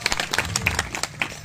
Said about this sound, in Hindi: ताली बजा रहे के गाली बजा कर दे रहे हो, बजाते हो तो ठीक से बजाया करो